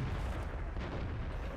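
Tank cannon fire in the World of Tanks video game, a single heavy booming shot with a rumbling, noisy tail that fills the short moment, loud and alone without talk.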